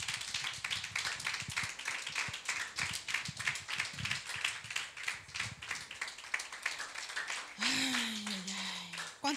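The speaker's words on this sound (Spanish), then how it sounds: "Denle un fuerte aplauso al Señor" A church congregation claps rhythmically together at a service, a fairly quick steady beat with scattered voices underneath, before the clapping stops and a voice rises briefly near the end.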